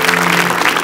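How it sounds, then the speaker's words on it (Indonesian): A studio audience bursts into brief, dense clapping for Abel's wife, loud and close with a low hum beneath. "Tepuk tangan dong buat istri Abel."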